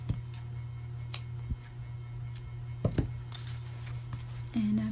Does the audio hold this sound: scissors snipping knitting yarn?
yes